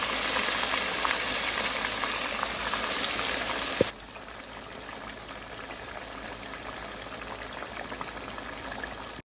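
Chicken pieces fry in a pan with only a little oil, a loud, steady close sizzle that drops abruptly to a quieter crackle after a brief clink near the middle. No one speaks.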